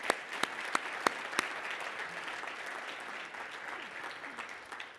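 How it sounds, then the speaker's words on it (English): Keynote audience applause at a conference presentation, a soft, fairly distant wash of clapping opened by a few sharp, close individual claps, heard alone without talk. "So let's give him another round of applause."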